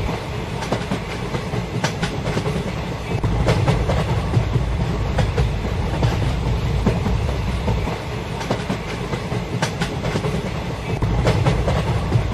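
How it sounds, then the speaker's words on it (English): A high-speed train in the video game RoFT runs at speed with a steady, loud rolling rumble and rhythmic clickety-clack of wheels over rail joints, continuous throughout with no voices. "本列车直达姑姑小镇，中途不停靠其他车站。由于行驶速度将达每小时360公里"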